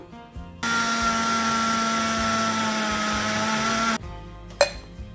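A mixer grinder whirs loudly and steadily for about three seconds as it grinds roasted grated coconut for Jaffna-style payaththam paniyaram, then stops and leaves a short clatter.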